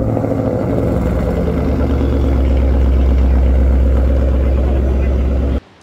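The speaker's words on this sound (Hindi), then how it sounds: "मैं एग्जॉस्ट की बात करूं, आई थिंक एग्जॉस्ट जो इसमें हम देख रहे हैं वो आपके बोरला के एग्जॉस्ट में लगे हुए हैं" A Ford Mustang engine running through a Borla exhaust, a loud, steady low rumble idling close by for several seconds before cutting off abruptly.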